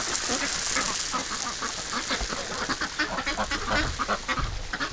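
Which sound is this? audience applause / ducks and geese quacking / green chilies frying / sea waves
ducks and geese quacking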